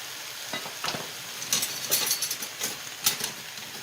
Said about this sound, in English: make sure at this point that you saute until the spinach and the kale, they become wilder